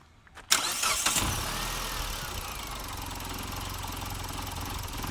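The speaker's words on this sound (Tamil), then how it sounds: "வாங்க இப்போ இன்ஜினை ஸ்டார்ட் பண்ணி பார்க்கலாம்" A car's 16-valve, 115 hp engine cranks briefly and catches with a sharp burst, then settles into a steady, close idle hum that holds to the end.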